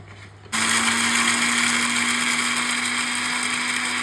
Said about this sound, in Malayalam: കുരുമുളക് നമ്മൾ മിക്സിയിലൊന്ന് പൊടിച്ചെടുക്കുകയാണ്